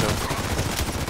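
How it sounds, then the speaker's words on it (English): Rapid gunfire from the online shooter game Contract Wars, fired through a window at nearby enemies, a dense run of close, loud shots packed into about a second with no pause. "I can shoot through the window."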